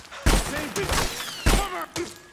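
Metal Gear Solid 4 gunfire, several sharp bursts of shots and impacts in quick succession over battle noise, with voices calling out in between.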